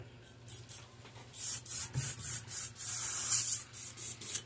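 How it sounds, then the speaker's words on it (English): An airbrush being cleaned out with a series of short, sharp bursts of hissing air, about ten quick pulses, close and without talk. "Clean this airbrush out real quick."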